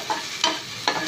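Onions salted and sautéed over a full flame in a stone pan give a low steady sizzle, with two quick scraping stirs close to the microphone and no speech.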